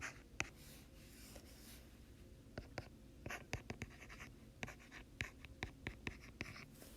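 Chalk or marker writing out a calculus fraction on a board, a steady run of short scratchy strokes and taps in an irregular rhythm, fairly close and alone with no talking.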